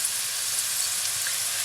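Chinese dumplings fry in a pan, their bottoms giving off a steady, fairly loud hissing sizzle that carries on evenly with no talking.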